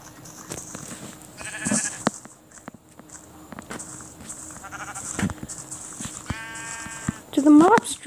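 Sheep in the Minecraft video game bleat several times in short wavering calls amid soft footsteps and clicks, with one rising synthetic bleat near the end; a person talks quietly under parts of it.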